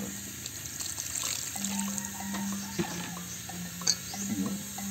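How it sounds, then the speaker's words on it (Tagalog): Water poured into a seasoned chicken feet mixture for crispy chicken feet, a steady close running and splashing stream that continues through the whole stretch, with a low hum underneath. "maglalagay tayo ng tubig"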